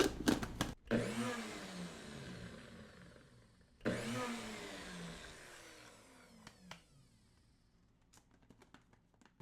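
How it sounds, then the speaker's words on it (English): A blender grinding dried beef whirs in two loud bursts that each wind down, with grinding and rattling pieces, then a few clicks and knocks as it stops. "put this last batch into this clean blender."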